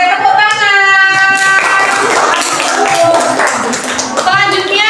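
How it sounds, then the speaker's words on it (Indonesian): A class of students claps in a classroom lesson, with rhythmic hand claps mixed among children's voices and chatter, voices prominent over the clapping. "Oke, tepuk tangan."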